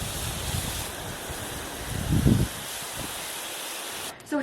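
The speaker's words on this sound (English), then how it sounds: "now I'm going to water them in really well" Transplanted comfrey plants are watered in heavily in an evening garden, giving a steady, close hiss of spraying water throughout, with a brief louder surge partway through.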